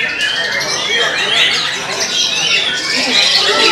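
A white-rumped shama at a songbird contest calls loudly and close, pouring out rapid varied whistles and chirps without pause.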